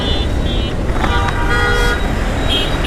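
A road traffic jam with a cattle truck ahead, where car horns toot in short loud blasts over constant engine and roadway noise close by.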